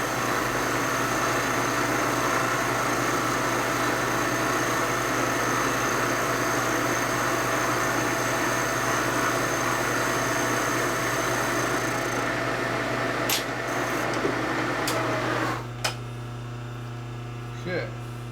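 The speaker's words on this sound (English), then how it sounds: "You hear it cutting even. You hear a little bit of vibration in the machine" A machine steadily cutting a cylinder head from a 1946 Harley knucklehead stroker engine gives a continuous even hum with slight vibration, ending in a few clicks as it stops near the end.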